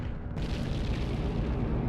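A weapon blast in the Nintendo 64 game Body Harvest booms as it destroys a tree, a sudden deep explosion with a rumbling tail.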